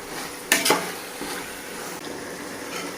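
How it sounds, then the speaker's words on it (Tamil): Chicken sautéing with masala in oil for biryani, two close metallic clanks of a spoon against the pot near the start, then a low steady sizzle and faint stirring scrapes, with no voices. "அந்த மசாலையே சிக்கன் நல்லா வதங்கணும்"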